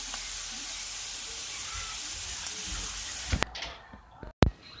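Onions and canned button mushrooms cook in a pan, giving a steady, close sizzle that runs evenly for several seconds before a few sharp clatters and a brief break near the end.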